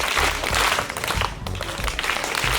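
A seminar audience in Mwanza breaks into loud rhythmic group clapping, a dense burst of hand claps that swells and dips briefly before continuing strongly.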